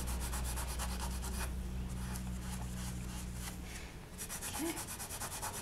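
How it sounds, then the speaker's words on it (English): Polymer clay pendants are rubbed on 600 grit sandpaper in continuous close scratchy strokes, a steady back-and-forth rasp with a brief softer patch before the rhythm picks up again. "So I'm just going to sand them from a 600 all the way up to a 1000."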